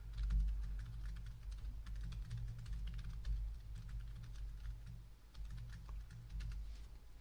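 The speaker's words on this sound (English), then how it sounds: "if I just kind of retype this out" Quick, continuous keystrokes on a computer keyboard rattle along in an unbroken stream over a low background hum, with only brief pauses between bursts.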